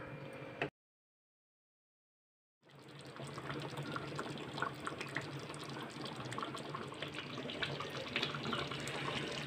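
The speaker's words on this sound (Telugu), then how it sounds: "కాచిన నీళ్ళు పోసుకుంటే వేడి నీళ్ళు బాగుంటుంది" Boiled hot water, about a cup, is poured into a simmering potato and meal-maker kurma curry. After a short silence, a steady, close splashing pour runs continuously to the end.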